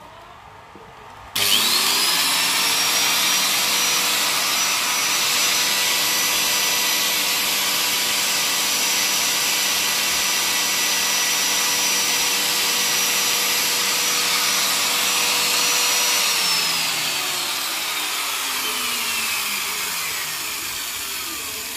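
An electric grinder of about 200 watts, powered by a portable power station, switches on abruptly with a high whine and runs steadily and loudly, then its pitch drops as it spins down near the end.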